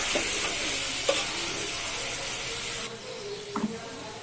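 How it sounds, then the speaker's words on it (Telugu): Ginger-garlic paste stirred into hot oil in a frying pan, giving a steady close sizzle with a few soft spoon scrapes and clinks; the frying hiss drops slightly partway through. "ఇప్పుడు అల్లం ఎల్లిగడ్డ వేసుకోండి, 1/2 టీ స్పూన్. కొంచెం కలబెట్టుకోండి."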